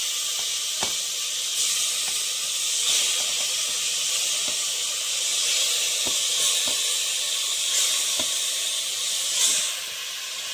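Mutton pieces fry in a hot pressure cooker with a steady, close hiss and sizzle, broken by scattered light pops and ticks throughout, with no voices.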